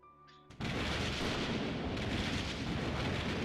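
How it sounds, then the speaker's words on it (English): A shotgun blast and booming thunder in the video game Code: Realize burst in after a quiet tonal moment, turning into a loud sustained rumbling roar that fades slowly. "His shotgun roars almost as loud as the booming thunder."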